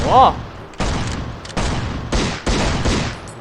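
Gunfire in the survival video game Last Island of Survival, four or five loud, separate shots at uneven intervals, each with a short rumbling tail, after a brief voice at the start.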